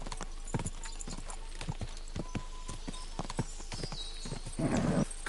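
Horse hooves clip-clop in a steady run of sharp, evenly spaced strikes inside the medieval game Kingdom Come Deliverance 2, with a brief whinny-like swell and rustle near the end.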